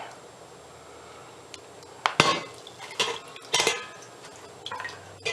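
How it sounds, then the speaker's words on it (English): Hot cooking liquid is strained through a strainer into a pan, with clattering metal knocks and splashing pours arriving in a few close bursts after a quiet start. "I'm going to strain all the solids and spices out of this into the pan"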